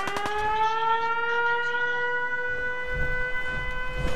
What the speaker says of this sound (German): das ist eine Sirene